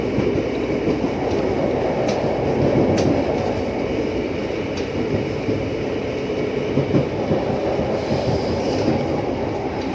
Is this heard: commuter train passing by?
yes